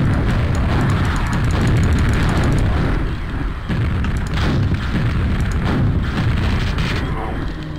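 Repeated booming explosions from homing missiles in a video game, loud and continuous with heavy low rumble, someone talking over them.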